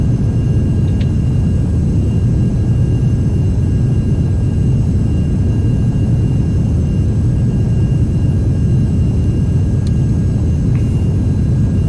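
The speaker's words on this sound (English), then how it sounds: "that was a super gusty takeoff, not the best" Beechcraft Premier IA jet taking off in X-Plane 11, a steady, loud broadband engine roar with deep rumble that holds constant throughout, with faint higher whines and a couple of brief clicks.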